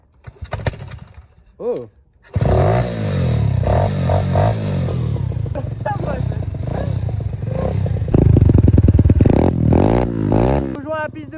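A 110 cc pit bike mini motorcycle coughs into life after a few pulls, then settles into a loud buzzing idle with repeated throttle blips and revs, up close, with brief voices at the start.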